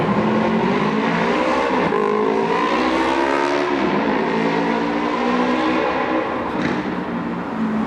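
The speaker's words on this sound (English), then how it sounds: "it's still the guy in the motorcycle who is hands down the loudest motherfucker" Loud motorcycle engine roaring steadily in busy street traffic beneath a double highway overpass beside train tracks, a continuous dense engine din with rising revs and no talking.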